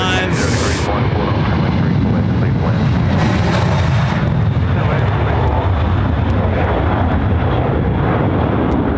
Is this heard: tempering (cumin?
no